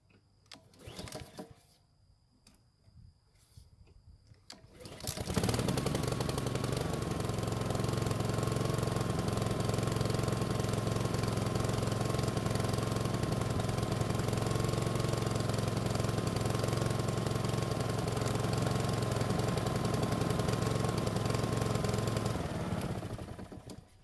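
A lawn mower engine running with the choke still on starts up after a few seconds of quiet handling noise, then drones loudly and steadily up close for about eighteen seconds before cutting off.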